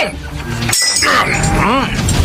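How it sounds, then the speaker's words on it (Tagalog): A sharp crash of a car window being smashed bursts out amid a loud scene, followed by agitated voices talking over it in Filipino. "Ba't mo binabato ang salamin ng sasakyan ko, Elias?"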